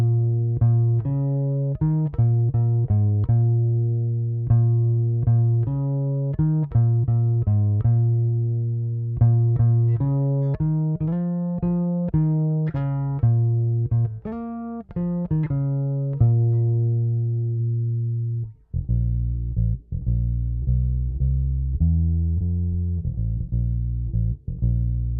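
Custom Tele bass built from parts with a Wudtone finish, played solo: a steady run of plucked bass notes with clear attacks, a busy melodic line shifting to a lower, sparser phrase near the end, no talk.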